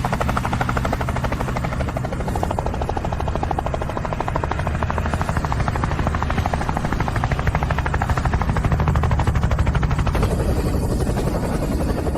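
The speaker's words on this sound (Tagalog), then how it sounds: "Iyan ay isang helicopter." A helicopter drones with a loud, steady rotor chop that holds close and constant throughout.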